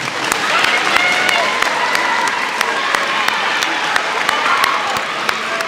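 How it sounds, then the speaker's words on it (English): A school crowd applauds students at a seventh-grade academic awards ceremony, a full steady round of clapping with a murmur of voices and some cheering mixed in, a few distinct sharp claps cutting through. "one more round of applause for these guys"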